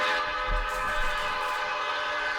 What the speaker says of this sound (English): equipping the train sets with a Nathan P1234A5 air horn, a variation of the Nathan P5